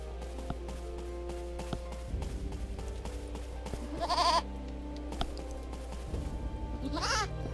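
Goats bleat in the video game Eternal Sonata, a few short wavering calls standing out near the middle and again at the end over a steady game music and ambience bed, with no talking.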